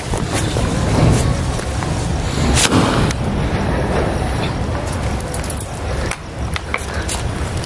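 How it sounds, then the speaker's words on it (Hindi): A sky shot firework rocket of the 'mirsal' type being tested outdoors: a loud, sustained roar with several sharp bangs and crackles, noisy and continuous over the whole stretch. "ये था हमारा जो मिर्सल वाला रॉकेट था स्काई शॉट था जो कुछ इस तरीके से चला"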